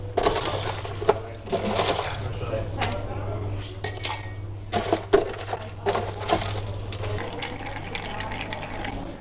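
Ice cubes clink and crunch into an iced Americano glass in a café in Cyprus, a run of close, sharp knocks and rattles under a low steady hum.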